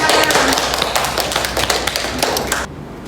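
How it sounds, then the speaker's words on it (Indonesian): Schoolchildren in a classroom give a student a round of quick, dense hand claps that stay loud and brisk for a few seconds, then stop abruptly. "Kasih aplaus dulu untuk Citra"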